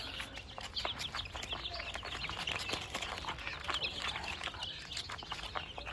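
A crowd of Brahma chicks peeps constantly in a dense, overlapping chorus of high chirps, close by and steady throughout over a low background hum.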